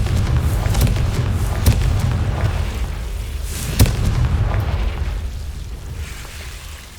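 Fire-spell explosions in the video game Hogwarts Legacy give deep, rumbling booms with a few sharp pops. The roar is sustained and fades slowly toward the end.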